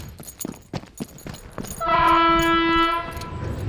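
A freight train in Transylvania rattles and clatters with rhythmic knocks, then a loud sustained horn blares for about a second over the rumbling, vibrating cars.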